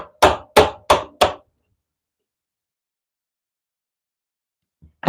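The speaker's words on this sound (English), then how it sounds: "I am chiseling out the center of this" Four sharp mallet strikes on a chisel ring out in quick, even succession as wood is carved out of a block, followed by a long silence and a faint knock at the end.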